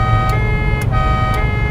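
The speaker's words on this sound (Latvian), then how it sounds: "Lielā ātrumā var ieslēgt lielo tauru." Horn of a classic Alfa Romeo car sounding a loud, sustained, steady multi-tone blare that fills the whole moment, with brief bright clicks or pulses recurring about every half second over a rumbling background.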